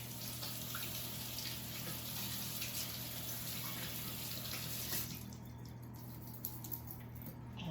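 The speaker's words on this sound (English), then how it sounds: "I am going to reach over and rinse my hands" Tap water runs steadily as hands are rinsed at a kitchen sink during casserole preparation, a constant close splashing hiss that thins out near the end under a faint background hum.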